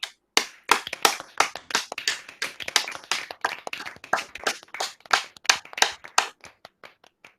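A law and politics graduation audience on an online call claps for the graduates, sharp separate hand claps in quick uneven bursts that taper off into a few scattered claps.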